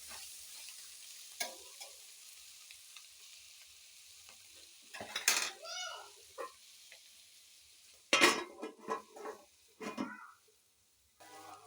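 Curry stirred in a pan, with several distinct scraping strokes and a faint sizzle between them, close and fairly quiet against a calm background.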